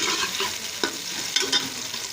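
Onions frying in a pan while cooking cluster beans, a continuous soft sizzle broken by a few stirring scrapes, heard alone without talk.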